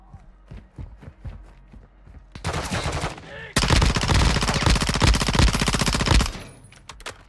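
Automatic gunfire in Call of Duty Modern Warfare II, loud and close: scattered footsteps first, then a short burst, then a long sustained rapid volley that cuts off near the end.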